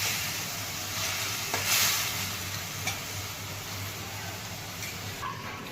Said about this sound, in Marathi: थोडंसं हिरवी मिरची बारीक करून घेतलेली थोडीशी तेलामध्ये छान परतून घेऊ.